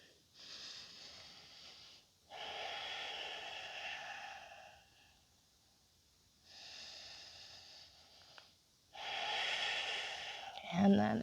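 Slow, deep breaths during a yoga flow in the desert, long airy inhales and exhales alternating with short quiet gaps, close and fairly soft.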